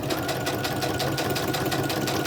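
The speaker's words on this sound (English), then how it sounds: "Add the sewing detail all the way up." A sewing machine stitches through junk journal paper folios in a fast, even rapid-fire patter of needle strokes, close and steady, with no voice over it.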